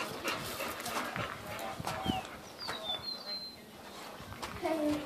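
Boxer dogs: a dog barks a few times amid background chatter, while birds or fowl call faintly in the distance.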